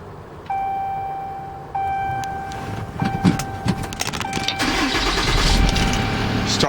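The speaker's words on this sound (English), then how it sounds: "let's start up the truck so you can hear the motor" A 2016 Dodge 5500 bucket truck with an exhaust brake is started cold: chimes and key clicks come first, then the engine cranks and catches and settles into a steady, fairly loud idle up close.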